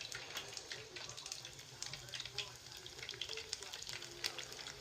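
Pancake-battered red Thai chicken pieces fry crowded in a small pan, giving a soft, steady crackling sizzle with scattered pops, faint and close.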